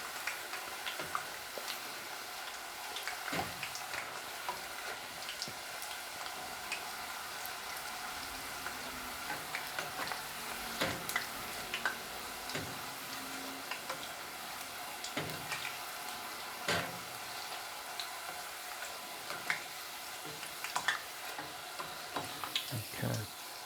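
Seaweed frying in oil until crisp gives a soft, steady sizzle with scattered small crackles and ticks throughout, close but quiet, with no voices.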